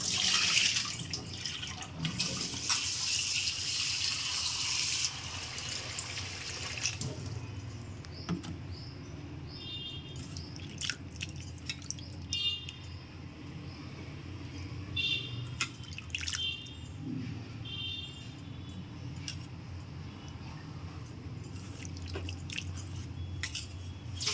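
Dried small fish being rinsed and swished by hand in water: faint, soft splashing and dripping with occasional light clinks, close by and quiet throughout.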